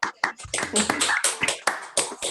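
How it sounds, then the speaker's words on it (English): Scattered clapping from online meeting participants with their mics switched on, uneven bursts of hand claps from several people, close and somewhat choppy, with a few sharp taps standing out. "just give applause to Ethiopia and Japan so they can hear how excited we are about this"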